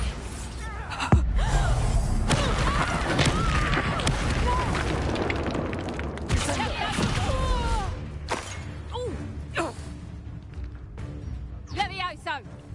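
Bombarda spell blasts in the video game Hogwarts Legacy, a dense run of loud booms and crashing impacts with sharp bursts around the first second, mixed with game effects and voices throughout.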